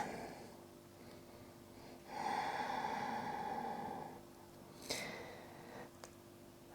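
Slow, audible breathing during a yoga flexibility stretch, a long soft exhale rising and fading over about two seconds, then quieter breaths with a short sharp intake, close and alone without talk.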